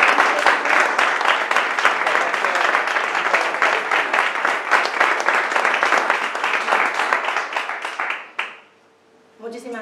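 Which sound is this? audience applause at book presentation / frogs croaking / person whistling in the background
audience applause at book presentation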